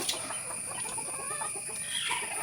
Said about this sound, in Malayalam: ഇതൊരു കോഴിക്കുഞ്ഞ, ഈയിടെ ഉണ്ടായൊരു കോഴിക്കുഞ്ഞ